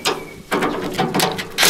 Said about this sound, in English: Put the wrench on there.